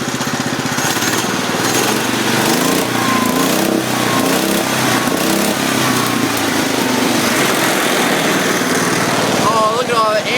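An old Cub tractor engine, recently cold-started and warmed up, revs steadily with a loud, buzzing, continuous drone throughout, close by, with a faint squeal near the end.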